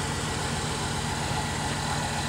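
A 1996 Chevrolet Silverado 2500 with a large bus-style muffler idles in a low, even rumble, steady and fairly subdued from start to finish.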